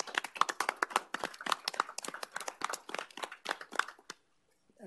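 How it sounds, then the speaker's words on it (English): People at a city council meeting clap for the city staff: a scattered, uneven patter of hands from a modest group, fairly close and moderately loud, that stops abruptly and leaves near silence. "So I want to clap on the staff here a minute for you."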